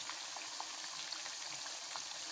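Plantain slices frying in hot oil for Haitian bannann peze give a steady, close, dense crackling sizzle that runs unbroken with no talk.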